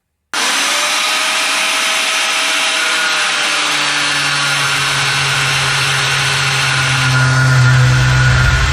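A power tool cuts through the steering column shift handle of an XC Ford Falcon with a 351 Cleveland, a loud, steady, high-pitched whine that starts abruptly and runs without pause, deepening slightly partway through.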